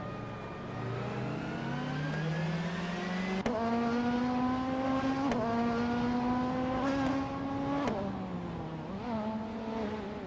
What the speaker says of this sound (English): Hope you're ready for some exciting AI car races.